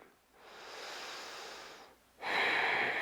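Slow deep breathing during a foot stretching exercise with a massage ball: a long soft airy inhale, a pause, then a louder forceful exhale, close and alone without talk.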